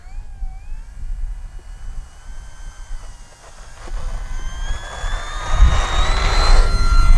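An Arrows RC P-51D Mustang model plane's electric motor whines steadily with rising pitch, growing louder and nearer toward the end, with wind rumble underneath and no talk.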